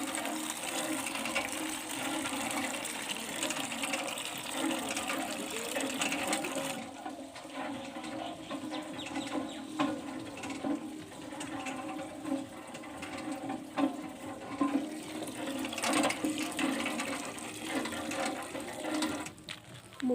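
Water gushes steadily from a village tube well in the cold early morning, a continuous loud rushing and splashing that runs unbroken for the full length with no voices.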